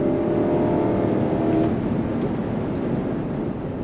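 A 2023 Infiniti QX80 SUV engine roars steadily as it accelerates from a dead stop, a broad continuous rumble with a brief shift in tone partway through as the 7-speed gearbox shifts.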